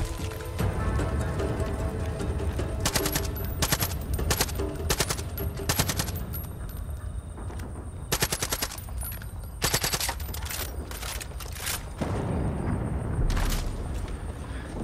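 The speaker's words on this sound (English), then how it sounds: "We're just gonna take a silenced AK and go at it." Silenced AK rifle fire in Far Cry 5, repeated short bursts and single cracks spread across the stretch with brief pauses between volleys, loud and close over a steady game ambience.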